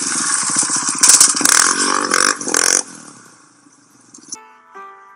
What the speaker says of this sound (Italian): George, nonostante non sapesse guidare la moto, decise di farsi un giro giù in città